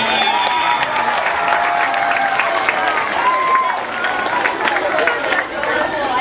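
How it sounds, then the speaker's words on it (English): A crowd at a morning stage event cheers and claps for Mrs. G, a steady, dense wash of applause with scattered shouts and voices filling the whole stretch at close range. "let's give a nice cheer and round of applause for Mrs. G."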